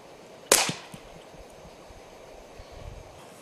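A single sharp gunshot cracks out close by, fired at a target mouth behind plexiglass, with a short decaying echo and quiet room tone afterward.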